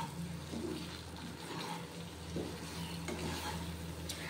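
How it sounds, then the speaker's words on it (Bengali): Spices and potatoes for posto fry in a pan with a little water, making a faint, steady sizzle with occasional stirring scrapes, quiet and close, with no talking. "এরপর সমস্ত মশলাটা খুব ভালোভাবে আলুর সাথে কষিয়ে নেব।"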